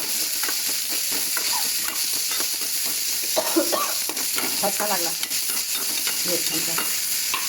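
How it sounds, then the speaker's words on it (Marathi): Green chillies, onion and potato sizzling in hot oil for sabudana khichdi, a steady close frying hiss with clinks of a spoon stirring the pan and a brief spoken remark. "तोपर्यंत त्याला फ्राय करायला ठेवायचं"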